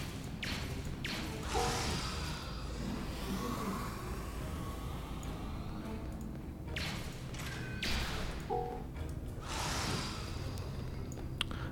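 Energy weapon shots striking a practice target in the Star Trek Online game tutorial, several bursts with whooshing thuds spaced a few seconds apart over a steady background hum.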